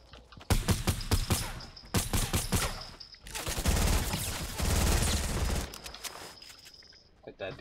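Rapid gunfire bursts crackle through a Fortnite squad match, dense volleys with brief gaps between them, while players talk excitedly over the shooting.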